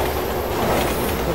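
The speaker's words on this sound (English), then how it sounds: "Train's coming!" A train in the video game Resident Evil 6 rumbles loudly and steadily as it bears down, a dense, continuous roar of rolling rail noise.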